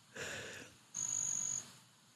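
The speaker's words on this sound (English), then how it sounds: "That cricket's saying more than I am." A cricket chirps at night in a quiet room, a single steady high trill lasting under a second after a brief soft rustle.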